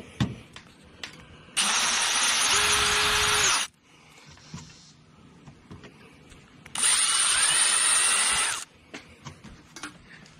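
A power drill with a left-handed bit backs a broken screw out of a Toyota Tacoma antenna mount, two loud sustained whirring bursts of about two seconds each, separated by quiet handling noises.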